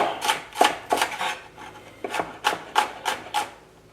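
A knife chops an onion on a cutting board during home cooking of brown rice and vegetable curry, about nine crisp, close strikes in two uneven rhythmic runs.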